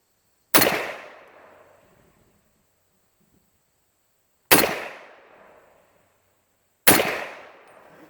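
Three loud, sharp rifle shots from an Underwood M1 Carbine at a target range, each a sudden crack followed by a decaying echo, spaced several seconds apart with silence between.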